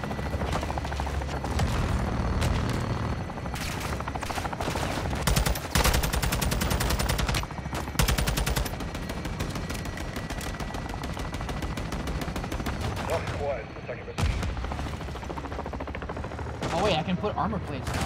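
Artillery fire mission strike in Call of Duty Modern Warfare 2: loud rapid bursts of gunfire and heavy booming impacts repeat throughout, with dense crackling volleys and shorter lulls between blasts, and a voice talks underneath.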